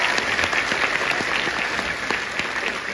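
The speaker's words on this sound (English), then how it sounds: "Give a round of applause" A comic convention audience at a cast panel in Liverpool bursts into applause, a thick and loud clatter of many hands clapping steadily, with some sharper individual claps standing out.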